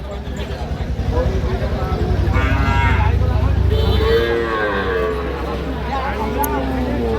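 Sahiwal cattle at a busy livestock market let out a couple of long, deep moos close by, one after another, over a constant crowd murmur and people talking.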